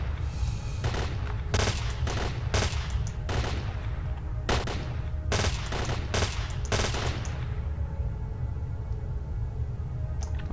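Gunfire in the video game Stalker: Call of Pripyat, a series of sharp shots in quick bursts with short gaps between, loud against a steady background rumble and fading to a lingering tail toward the end.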